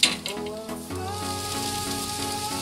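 Food sizzling slowly in a pan outdoors on a park day, a steady close crackling fry that starts after a brief sharp clatter and holds evenly under a faint hum.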